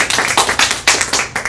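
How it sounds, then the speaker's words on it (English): A small group claps for state leaders at a talk on equal shared parenting, sounding as about eight distinct, close, sharp claps in a quick irregular rhythm. "So I think they all deserve a round of applause."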